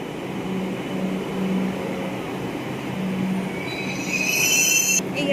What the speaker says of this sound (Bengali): ট্রেন এলো